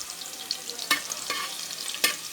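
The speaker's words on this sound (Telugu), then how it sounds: "చూడండి వేగుతున్నాయి కదా ఆనియన్స్ ఎలా వేగుతున్నాయి చూడండి." Onions frying over high heat in a pan for a spicy mutton gravy curry, a soft steady sizzle with a few sharp stirring scrapes, close and fairly quiet.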